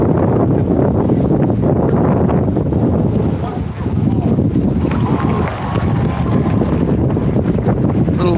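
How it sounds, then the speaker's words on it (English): Heavy wind rumbles and buffets the microphone outdoors at a street protest in Denver, loud and continuous with slight dips, faint voices underneath. "It's a little windy out here today"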